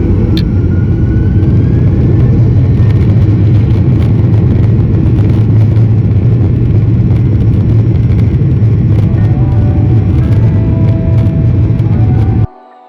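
Southwest Airlines Boeing 737-800 jet engines in a loud, steady roar during an early morning takeoff roll on runway 10 left at West Palm Beach, heard from the cabin, continuous for the whole clip before cutting off at the end.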